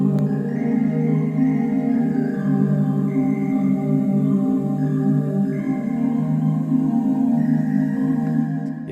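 Ambient beat with a warm sustained synth pad beneath a reverb-heavy vocal chop preset, soft melodic notes drifting up and down over a dense, even wash that stays loud and steady, with no talk.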